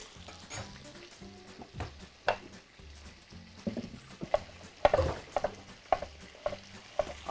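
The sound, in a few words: vegetables frying in oil flavoured by meat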